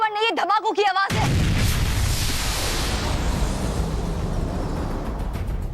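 A voice speaks for about a second, then a fantasy TV drama's explosions break in as a sudden loud blast that decays into a long rumbling roar.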